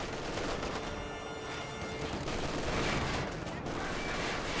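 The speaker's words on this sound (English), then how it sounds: "Short barrel Panzer IV fires away, rolls a miss." Battle noise in Company of Heroes 2 as a short-barrel Panzer IV fires, a loud cannon report among dense overlapping gunfire and explosions.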